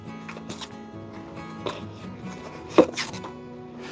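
A metal spoon is rubbed across the top of a baking powder container, leveling it off as cornbread ingredients are measured, with scattered short scraping and tapping sounds, one sharper clack near the end, close and fairly quiet.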